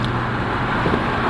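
A supercharged Mercedes-Benz SLK32 AMG cruising along, heard from inside as a steady, subdued low engine hum blended with road and wind noise, with no distinct revving.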